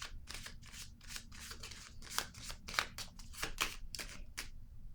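Tarot cards handled and shuffled in a quiet room, a steady run of crisp, papery snaps and flicks repeating roughly every half second, close and fairly soft.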